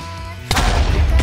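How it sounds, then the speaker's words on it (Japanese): TNT bomb blowing up in the Minecraft video game: a loud, sudden blast at once gives way to a booming, rumbling roar that fills the rest of the moment. "爆弾は、あの R ボタンを押すと多分爆発するんだけど"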